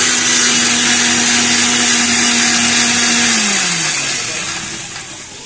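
A kitchen blender grinds chilli, ginger and garlic into a marinade paste with a loud, steady, high whine at close range. It spins down and fades away over the last two seconds.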